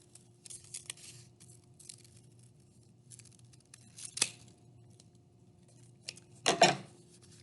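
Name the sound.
scissors cutting paper raindrop shape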